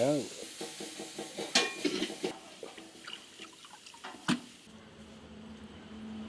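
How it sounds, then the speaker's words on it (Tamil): Freshly bought fish rinsed and scraped clean by hand in water, with splashing, scraping and a few sharp knocks close by, followed by running water trickling at the end. "நாம் வாங்கிட்டு வந்த மீனை வந்து லட்சுமி அம்மா கழுவிட்டு இருக்காங்க"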